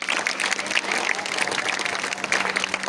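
Audience applause at a poetry gathering, a dense steady wash of many hands clapping close and loud throughout, with no talk over it.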